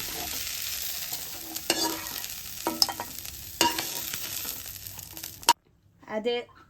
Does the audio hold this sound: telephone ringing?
no